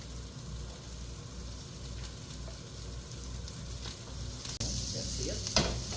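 Onions and garlic frying in a pan for stir-fried egg noodles, a continuous close sizzle with a louder burst and a few clinks of the utensil toward the end.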